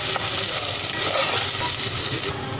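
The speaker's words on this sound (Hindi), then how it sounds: "मसाला अच्छे से फ्राई हो रहा है।" Mixed masala frying with mutton pieces in a pot, a dense close sizzle with stirring scrapes throughout.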